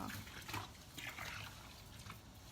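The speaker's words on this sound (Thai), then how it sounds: "ล้างจนกว่าน้องจะไม่มีฟองอะครับ" Laundry rinsing in plain water, with a steady, quiet slosh and trickle of water, continuous and close, no voices.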